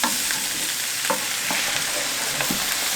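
Vegetables are stirred in a pan as water and a stock cube go in, a close bubbling sizzle broken by repeated spoon scrapes and clacks over a few seconds.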